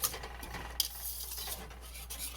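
Whisk stirring thick soy milk in a pot on the stove for homemade tofu, a quiet continuous scraping swish with one faint clink of metal.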